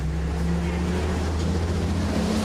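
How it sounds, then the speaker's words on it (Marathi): An old vehicle's engine and gears drone and rumble in a steady, low, humming grind, close and constant with no break and no voices. "पिवळा रंग आहे थोडीशी जुन्या टाईपचे आणि आवाज येते घर घर घर घर गिअर टाईपला गिअर बी टाकलेला आवाज येते घर घर घर घर घर"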